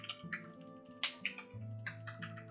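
Keyboard typing in quick bursts of clicks with short pauses between them, close and fairly clear over a low steady hum.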